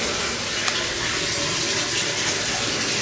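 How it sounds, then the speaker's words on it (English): Running water splashes steadily while a plastic frog cage is rinsed out after old bedding was removed, a continuous close hiss and patter with one brief knock partway through. "And now I'm rinsing it."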